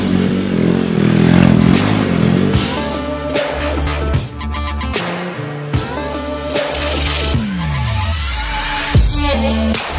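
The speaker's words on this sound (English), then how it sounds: "I took your RC a little bit to make some spins here in the workshop" A radio-controlled car spins inside a workshop with a loud, continuous electric motor whine that rises and falls in pitch, mixed with clattering and scraping of tires and body on the floor, close by.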